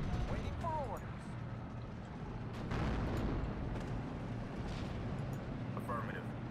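Artillery in Steel Division: Normandy 44 fires and explodes with distant booms and rumbling under the battle noise, with in-game voices talking.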